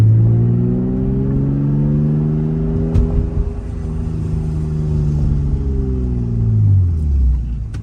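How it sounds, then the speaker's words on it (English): A 1995 Toyota Supra SZ-R with an HKS Hi-Power carbon-titanium exhaust drones steadily from inside the cabin, its deep exhaust tone rising and falling through gear changes, loud and continuous with no talk. "This is gonna be the after test of driving with the HKS exhaust."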